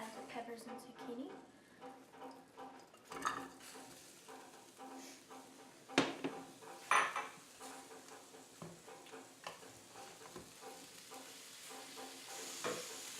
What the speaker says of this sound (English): we are going to saute the peppers and the zucchini